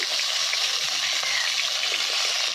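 Potatoes and vegetables fry together for Bengali shukto, giving a dense, steady hiss of oil sizzling close up with faint stirring underneath and no voice.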